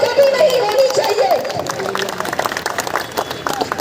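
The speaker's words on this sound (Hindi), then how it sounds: "मुश्ताक भाई के लिए एक 2 तालियां आ जाए" A crowd at a public political rally breaks into scattered clapping that builds toward the end, mixed with voices and a speaker's amplified talk.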